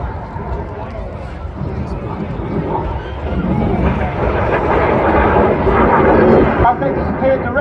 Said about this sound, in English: The Synchro pair now passing within 100 feet of each other before they perform a series of aileron rolls.